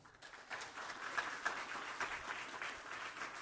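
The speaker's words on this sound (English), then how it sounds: "Applause." An audience bursts into moderately faint applause during a talk on the philosophy of holy water. The claps rise quickly and carry on evenly, with a few louder individual claps poking through.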